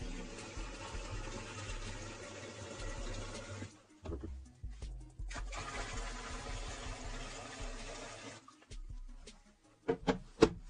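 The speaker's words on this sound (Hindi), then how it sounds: "सबसे पहले हम इसके ढक्कन को खोल लेते हैं और इसमें पानी को भर लेते हैं।" Water is poured into a low-cost homemade air cooler, a steady rushing fill with a low hum running for several seconds, a pause with scattered clunks, then more filling and a few knocks at the end.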